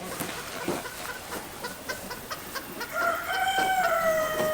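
Chickens cluck close by amid rustling and shuffling, with a rooster's drawn-out crow rising over the flock in the last second and a half.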